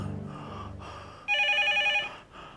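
A telephone rings indoors with a bright, trilling electronic bell burst lasting under a second, heard after soft murmuring and breathy sounds.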